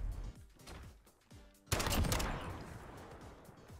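Gunfire from the video game Modern Warfare, with a burst of shots around a louder blast that trails off, heard fairly faintly.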